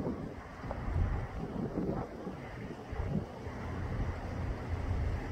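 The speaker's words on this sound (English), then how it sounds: "Probably about a 40 mile an hour gust every now and then." Strong wind gusts of around 40 miles per hour roar outdoors among trees, producing a steady, loud rumble of buffeting across the microphone that swells and eases throughout.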